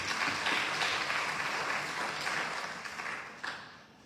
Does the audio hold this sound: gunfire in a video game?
no